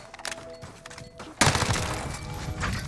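An ISO submachine gun firing in Modern Warfare multiplayer, starting as scattered shots and muffled impacts, then breaking into a loud, sustained burst of rapid automatic fire up close.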